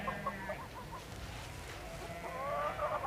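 Chickens bought from villagers cluck and chatter in short bursts at close range, a rooster-like call rising over the flock near the end, amid steady outdoor background noise.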